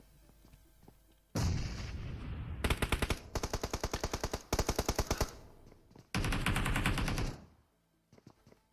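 Automatic gunfire in the mobile battle-royale game PUBG Mobile, loud bursts of rapid rattling shots in several long volleys with brief gaps between them, with no voices.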